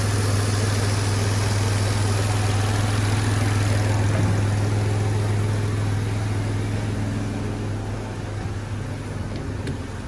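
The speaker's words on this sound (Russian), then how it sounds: "Работа двигателя Chevrolet Epica." A Chevrolet Epica's 2.5-litre X25D1 six-cylinder engine idles steadily with a deep, even hum and a constant drone, close and loud throughout, easing slightly softer toward the end with no talk.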